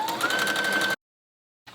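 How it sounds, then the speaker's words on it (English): A domestic sewing machine runs a triple stitch seam along the side of a jogger skirt, giving a steady, close mechanical whir for about a second, then silence before the motor briefly starts again. "it is recommended that you use your sewing machine to sew up the sides. So I'm going to be using my triple stitch for this."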